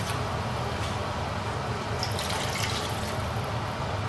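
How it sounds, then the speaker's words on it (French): Water pours steadily into a cooking pot holding dongo dongo, a continuous close rushing and splashing that holds at an even level throughout with no pauses. "Après, je vais rajouter de l'eau"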